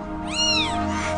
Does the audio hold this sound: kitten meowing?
yes